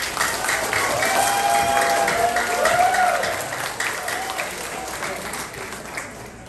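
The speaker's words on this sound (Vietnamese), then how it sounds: "Xin một tràng pháo tay thật lớn cho Đức Nguyễn." A large crowd at a Vietnamese-American campaign rally for Derek Tran claps and cheers loudly as a veteran is welcomed to the stage. The sustained applause is mixed with scattered whoops and voices and fades slightly toward the end.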